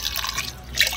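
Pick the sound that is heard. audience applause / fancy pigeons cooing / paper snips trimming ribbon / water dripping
water dripping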